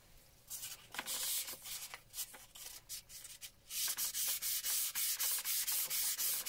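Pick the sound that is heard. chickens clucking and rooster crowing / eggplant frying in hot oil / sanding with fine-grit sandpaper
sanding with fine-grit sandpaper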